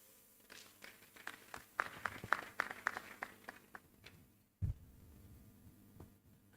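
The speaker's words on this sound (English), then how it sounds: "Are you clapping for our chairman and the vice chancellor?" An audience at a Nigerian Institute of Food Science and Technology annual conference claps in a series of sharp, uneven claps that swell and then thin out, followed by a dull thump and a low hum.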